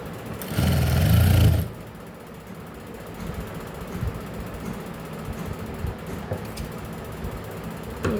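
A sewing machine runs a zigzag stitch on blouse fabric, a loud burst of rapid mechanical whirring and clacking for about a second, followed by quieter handling and faint machine rattles.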